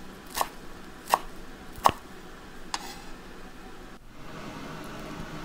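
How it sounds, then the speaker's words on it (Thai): Knife slicing shallots on a cutting board for Lao-style mushroom larb, four sharp distinct cuts spaced about a second apart, then a soft scrape, close and clear against quiet room hiss. "ซอยหอมลาบ"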